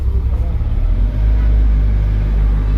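A 1995 Opel Vectra engine rumbles low and heavy while gears are shifted, with someone talking over it from inside the car.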